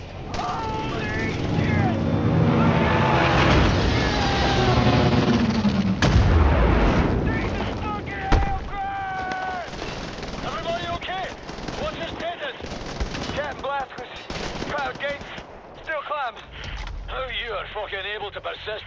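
Dense battlefield gunfire and heavy booms from Wolfenstein: The New Order rage almost nonstop for the whole stretch. Shouting voices and other game sounds are layered over the shooting.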